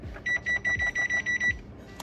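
A kitchen timer is set and gives a run of about seven quick, high electronic beeps in an even rhythm, close and clear, over faint low knocking.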